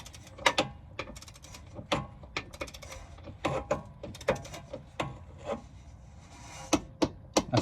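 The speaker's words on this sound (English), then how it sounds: "I've got my little quarter drive torque wrench" A quarter-drive torque wrench tightening a bolt while air suspension is fitted to a VW Crafter or Mercedes Sprinter campervan: close, rhythmic ratcheting strokes in short repeated bursts.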